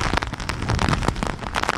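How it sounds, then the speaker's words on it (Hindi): Stormy wind and heavy rain batter the ground during Cyclone Biparjoy in Gujarat, a dense, continuous roar of gusts and downpour, loud and close, with crackling bursts throughout. "लेकिन तूफानी हवाएं और बारिश, हम सीधे नहीं खड़े हो पा रहे हैं"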